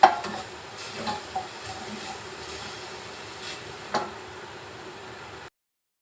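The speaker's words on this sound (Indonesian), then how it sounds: "Bawang bombay kita masukkan ya." Onions frying and being stirred in a pan: a steady soft sizzle runs throughout, with a few sharper scraping stirs and clicks over it.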